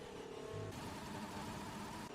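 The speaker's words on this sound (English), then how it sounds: "Blippo revving the shit out of his engine" Racing car engine in a sim racing game on a France track, a continuous loud engine drone with revving pitch shifts throughout and no talk.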